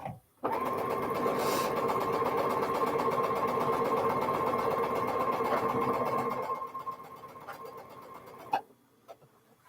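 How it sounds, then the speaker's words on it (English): Sewing machine stitching ear pieces for an Elizabeth Hartman animal quilt block, a steady close-up whir of rapid needle ticks running nonstop for several seconds before slowing and stopping, followed by a few faint clicks. "As I'm sewing these ears"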